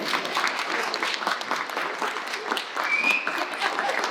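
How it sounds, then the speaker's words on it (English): Wedding guests applauding steadily for about four seconds, a dense, moderately loud field of clapping with faint voices mixed in. "Big round of applause."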